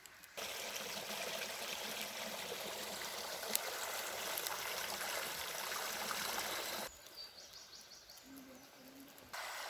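A small river flows steadily with a broadband rushing and trickling wash, near and continuous, then drops suddenly quieter near the end, leaving a softer trickle with faint birdsong before the louder flow returns.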